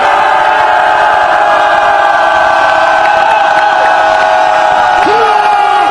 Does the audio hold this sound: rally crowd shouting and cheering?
yes